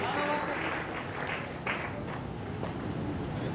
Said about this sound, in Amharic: ለአማራ ልማት ማህበር እስኪ አንድ ጊዜ ደብልቅልቅ ያለ ጭብጨባ ለግሱልን